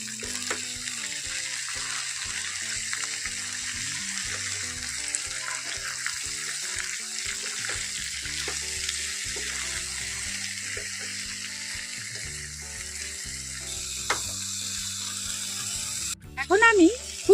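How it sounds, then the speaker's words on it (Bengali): Drumstick flowers fry with salt, turmeric and chilli while being stirred, with close, rhythmic grinding scrapes over a soft sizzle and a brief louder clatter at the very end. "ভালো করেই নাড়াচাড়া করে নিয়েছি"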